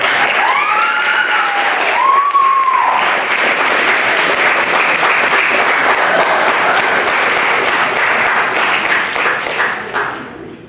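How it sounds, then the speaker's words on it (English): A pep rally crowd in a school gathering applauds the students, loud sustained clapping filling the room for around ten seconds before fading, with a few whistles and cheers over it. "Let's have a round of applause for all the students being here."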